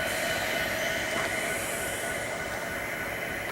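Norfolk Southern freight train 30T, led by three locomotives, rolls past in the mountains. A loud, steady rumble of wheels and rail noise fills the whole stretch, with faint squealing and no talking.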